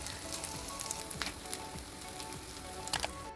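Aloo tikki fry in a hot pan with a continuous close sizzle and crackle, small pops and spits of oil bursting irregularly over the steady hiss.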